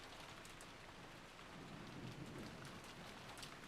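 Steady rain pours down in the video game Rose Guns Days, a dense, even hiss with soft spattering that swells a little louder partway through and continues without voices.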